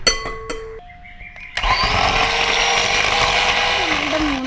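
An electric mixer whirs to life and runs steadily, beating eggs in a bowl for an Irani cake, loud and close, its motor pitch shifting slightly near the end, after a few short tones and clicks.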